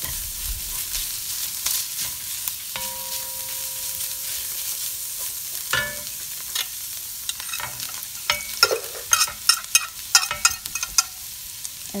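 Minced meat sizzles in a pan with garlic, onion and grated ginger as they are stirred, giving steady frying hiss with clinking and scraping strokes that grow busier and sharper toward the end.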